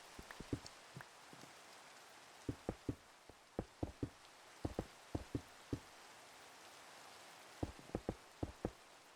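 Rain falls on a house under construction, heard as scattered, irregular drips and taps striking a surface at close range against a quiet background, with no voices.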